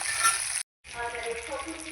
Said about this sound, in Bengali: এই তিনটে মাছ ভেজে নিলেই কিন্তু আমার সব মাছ ভাজা হয়ে যাবে